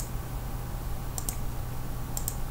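Two pairs of quick mouse clicks in audio editing software on a computer, crisp and close, separated by about a second over a low steady hum.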